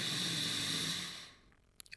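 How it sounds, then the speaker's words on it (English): A long, loud deep inhale during a guided breathing exercise, a steady airy rush that holds for over a second before fading into near silence, with a couple of small breathy sounds at the end. "Breathe in."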